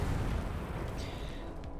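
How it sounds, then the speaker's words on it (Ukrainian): A shot fired in a war video game, a heavy booming blast up close followed by rumbling, with a couple of fainter sharp cracks trailing after it, no voices. "Постріл."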